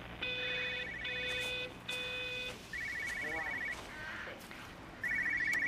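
An in-game telephone rings in Everybody's Gone To The Rapture, sounding in repeated electronic trilling bursts with short gaps, fairly close and clear, over a low steady background hum.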